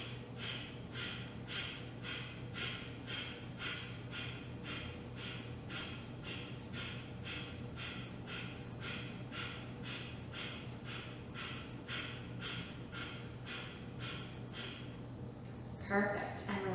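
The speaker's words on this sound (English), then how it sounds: "Big deep breath in and forceful exhales." Forceful exhales in a yoga breathing exercise: a long run of short, sharp breaths pushed out through the nose in a fast, even rhythm, close and steady, ending in a brief rustle.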